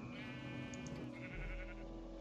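Sheep bleat in a video game, a few short calls over a steady droning game soundscape with a low rumble near the end.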